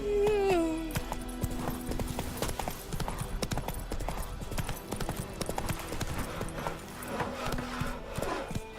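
Roach, a horse in The Witcher 3: Wild Hunt, gallops in a steady, fast clip-clop of hooves, with game music and ambient sound underneath and a brief neigh near the start.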